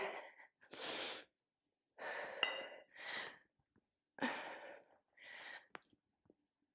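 A person breathes heavily during a kettlebell exercise set, with several loud, close, forceful exhales and gasps separated by short silent gaps in an uneven rhythm.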